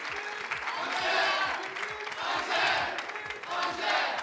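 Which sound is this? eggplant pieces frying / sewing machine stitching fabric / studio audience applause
studio audience applause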